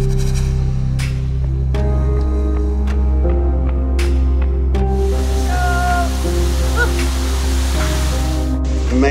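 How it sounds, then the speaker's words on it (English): Steady, rushing roar of a large waterfall of unknown height at a cliff-jumping spot in Mexico, heard close from the top, with faint voices in the background. "here on top of this unknown height waterfall"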